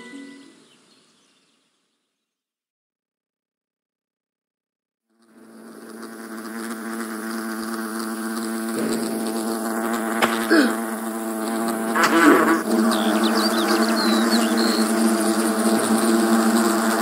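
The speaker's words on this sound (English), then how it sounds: "Hurry! Wasps!" A swarm of wasps buzzing in the video game Fable The Lost Chapters: a dense, continuous drone with shifting tones starts after a few seconds of silence and holds steady, with small accents from game effects, no talking.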